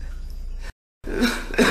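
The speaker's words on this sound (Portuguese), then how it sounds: "essa tosse minha que não para" A person with a persistent cough gives a couple of close, harsh coughs after a brief moment of silence, loud and abrupt against a quiet background.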